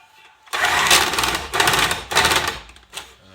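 An electric whisk whirs loudly in bursts, grinding and rattling through a thick, frozen ice cream mixture, with brief pauses between runs.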